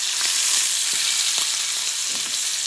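Ostrich steak frying in butter in a hot pan gives a loud, steady, close sizzle with a few faint scrapes and taps underneath, no speech.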